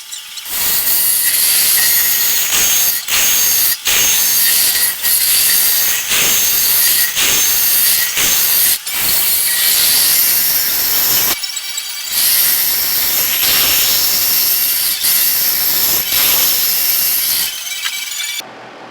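A woodturning lathe tool cuts into a spinning wooden bowl blank, giving a loud, steady, gritty hiss with several brief pauses and no talking.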